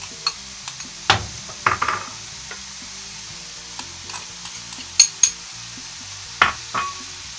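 Tricolour bell peppers tossed into a pan for arroz con pollo, giving a low sizzle broken by several sharp scrapes and clinks of a utensil stirring against the pan, close and alone with no talk.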